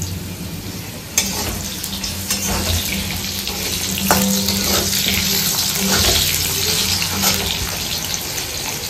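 Tomatoes dropped into a hot frying pan of home cooking, a constant close sizzle and bubbling with a few sharp clatters and stirring sounds, no talking.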